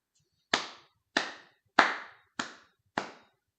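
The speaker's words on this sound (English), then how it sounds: "They applaud." Five sharp, separate hand claps at an even, unhurried pace, each dry and close with a quick decay, with no crowd wash or talking between them.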